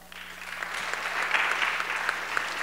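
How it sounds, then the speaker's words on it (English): An audience applauding at a stage event, a dense, steady wash of clapping that swells slightly and holds for a few seconds at moderate distance. "give these guys a round of applause"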